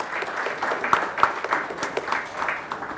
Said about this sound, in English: Let's put our hands together as we have the mementos being presented